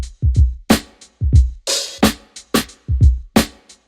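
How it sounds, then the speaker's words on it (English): A sampled boom bap drum break plays alone, punchy kicks and crisp snares in a loose, swung off-grid pattern, loud and upfront. "So the drums sound like this."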